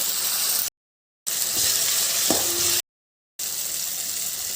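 Tomatoes, bay leaf and green chillies sizzle in a hot pan for mutton biryani, a steady hiss broken by two short silent gaps, with a brief clink of utensil midway and no talking.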